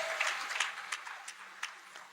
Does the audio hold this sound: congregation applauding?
yes